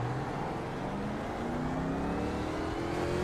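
A 1987 NASCAR Legends race car in iRacing at Michigan roars steadily as its engine pitch climbs under acceleration, loud and continuous with no talking.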